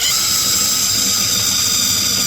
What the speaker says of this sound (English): I'm gonna make another hole right here. With a self-tapping screw.